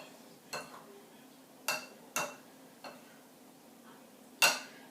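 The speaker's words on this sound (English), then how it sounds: "use my pastry blender to scoop, and just make sure that I don't have any huge chunks of the shortening still in that flour" A pastry blender cuts shortening into flour in a bowl, giving five sharp clinks and scrapes against the bowl, irregularly spaced, close and clear with no talk.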